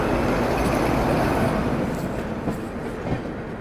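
The Duronto Express passenger train from Kolkata to Pune runs steadily on the rails, a loud, close, continuous rumble and roar with faint clickety-clack over the joints, heard from on board with no voices.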